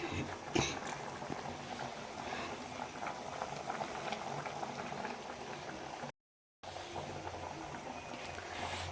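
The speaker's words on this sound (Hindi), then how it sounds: "मटर उबल रही हैं, अब इसमें डाल दूंगी मैं पनीर धीरे धीरे" Peas boil in a pot of water on a home stove, a soft, steady bubbling and popping that carries on throughout, quiet and close, broken only by a brief gap.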